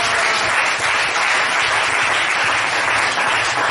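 A church congregation acclaims the Lord with loud, steady applause. Dense clapping fills the hall at an even level from start to finish, with no voices standing out.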